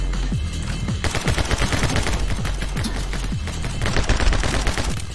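Rapid, loud gunfire from a newly picked-up gun in the video game My Friend Pedro, dense bursts of shots packed over a constant busy game background with no pauses.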